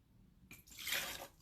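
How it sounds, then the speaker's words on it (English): Two ounces of brown sugar bourbon splash briefly into an empty cocktail shaker with no ice, a short close liquid pour that starts abruptly and swells. "I'm just pouring stuff straight into my shaker"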